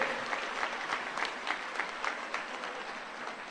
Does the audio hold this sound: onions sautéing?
no